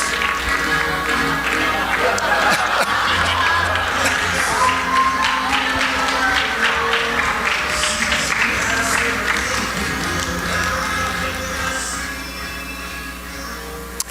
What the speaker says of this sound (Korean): 우리 박태남 목사님 박수로 환영